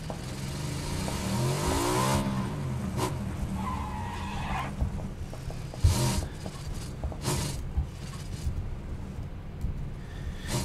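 A motorcycle in the video game PUBG revs and skids, its engine rising and falling in pitch with tire scrapes and a few sharp thumps, loud and close throughout.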